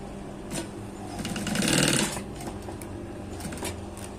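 Sewing machine stitching a folded cushion cover for a modern salon pillow, a steady close mechanical rattle that builds to a louder, faster burst midway before settling back to a lighter run.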